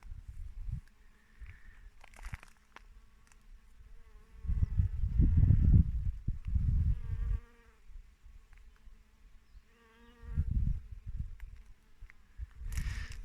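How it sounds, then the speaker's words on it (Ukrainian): Bees buzzing steadily at close range around rapeseed blossoms, swelling louder in bursts and fading back, a busy hum with no talking. "і просто кишить бджіл"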